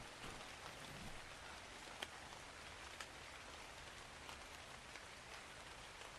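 Steady rain falling on a surface, a dense even hiss with occasional sharper drip taps, continuous and moderately loud, with no voices.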